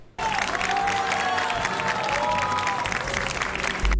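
A TV studio audience breaks into loud, sustained applause that starts abruptly and holds steady and dense, with a faint crowd murmur underneath.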